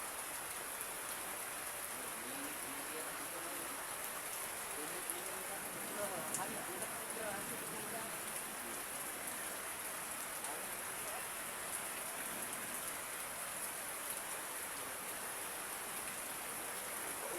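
Rain falls steadily around a family home, a faint, even hiss of drops that runs unbroken for the whole stretch with no clear break or change.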